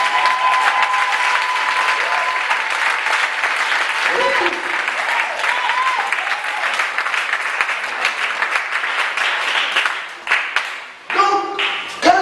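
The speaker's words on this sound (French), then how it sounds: "Est-ce qu'on peut acclamer ça?" A church congregation applauds and cheers loudly and continuously, a dense wash of clapping with raised voices that thins and breaks up toward the end.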